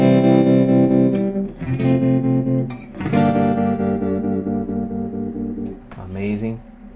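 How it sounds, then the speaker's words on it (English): Sustained electric guitar chords through a Kemper amp pulse with a rhythmic tremolo wobble, ringing loudly with several chord changes. "For example, I really love a tremolo"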